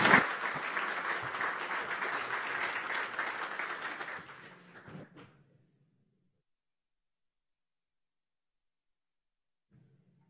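An audience at a tech forum bursts into loud applause for about four seconds, then the clapping thins out and fades into near silence.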